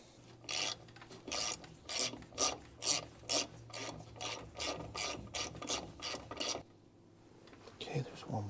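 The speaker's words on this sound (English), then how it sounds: "there's two little bolts, one up here and one right here that hold this wheel cylinder in. I'm gonna go ahead and pull those out" Ratchet wrench loosening the wheel cylinder bolts on an International pickup's drum brake, giving a close run of about fifteen rhythmic rasping clicks, then a pause and a few softer clicks.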